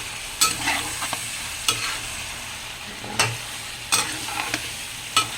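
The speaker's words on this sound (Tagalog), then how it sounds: "Haluin muna natin para masarap." Pork pata paksiw stirred in a pot, with a spoon scraping and clacking at regular intervals, about five sharp knocks over a soft, steady background hiss.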